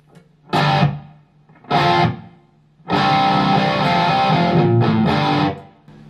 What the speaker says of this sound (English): then on scene 2, I'm adding reverb.